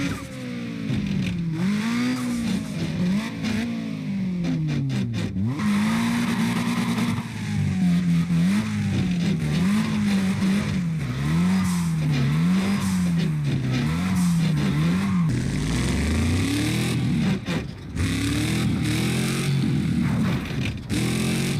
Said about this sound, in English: The transmission even grinds when you don't shift,